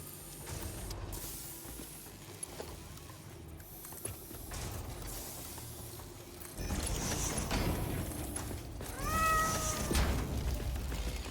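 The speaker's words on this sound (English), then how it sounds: "Yes, you found the meow button." A meow sound button triggered on a livestream, with short electronic cat meows rising over a steady background hum, the clearest cry coming near the end.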